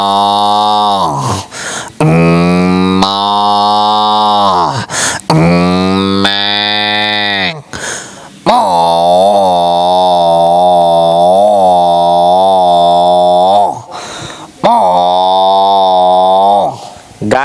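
A voice imitating a cow, a calf and a buffalo together, long loud mooing and lowing calls that swell and waver, broken by brief pauses, close and strong.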